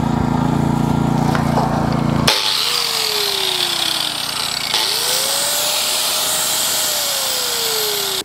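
A corded power tool with a freshly repaired electrical cord runs steadily at close range, a dense motor roar that shifts pitch partway through, with whining tones gliding up and down.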